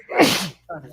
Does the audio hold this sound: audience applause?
no